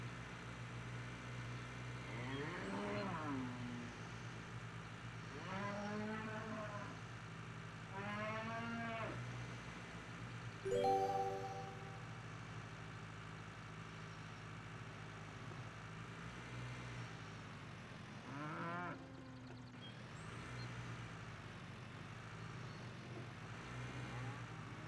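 Cattle in a trailer in the farming game Cattle & Crops, several separate moos spread across the clip, fairly close, over a steady low engine hum.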